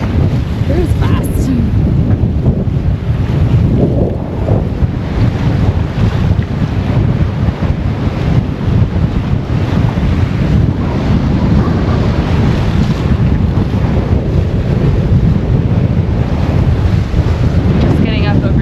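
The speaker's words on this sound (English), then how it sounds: "This is quite a windy part of the world" Strong wind roaring across a sailboat at sea in rough weather, heavy microphone buffeting over the rush of waves and hull noise, loud and continuous throughout with faint voices underneath.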